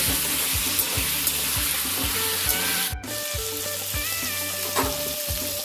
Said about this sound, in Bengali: কপিটা লাল লাল করে ভাজা হয়ে গেছে